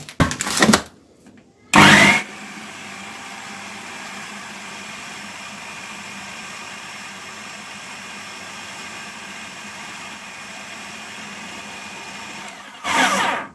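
An electric blender whirs loudly and steadily as it mixes cake batter made with milk and orange-flavored vanilla. Brief louder bursts come at the start and the end, and there is no talk.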